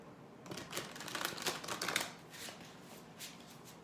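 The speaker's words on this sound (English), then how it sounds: "one more shuffle, one more shuffle." Oracle cards riffled and shuffled by hand, a quick run of soft papery flutters that swells in the middle, then trails off into a few lighter taps near the end, close and quiet.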